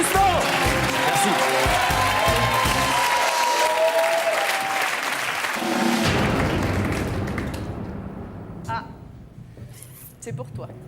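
Studio audience on a French TV entertainment show applauds a comedian guest, a loud sustained ovation with voices over it that gradually dies down to quiet scattered sounds.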